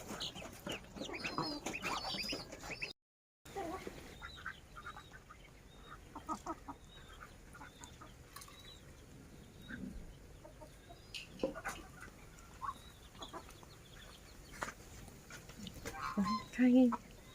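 Chickens and ducks cluck intermittently at a distance in an outdoor farmyard garden, with faint voices and scattered bird calls, growing busier near the end.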